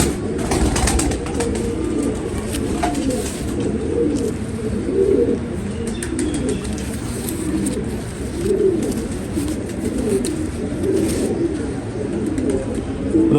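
Pigeons of a golden breed kept in a loft coo continuously, soft low rolling calls overlapping from several birds close by, with occasional chirps and faint wing flutters and no talking.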